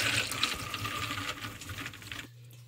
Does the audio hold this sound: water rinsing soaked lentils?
yes